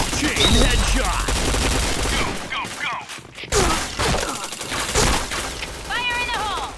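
Gunfire rattles in a multiplayer shooter game, with dense bursts and rapid automatic fire at loud, close range, while players talk and shout over it throughout.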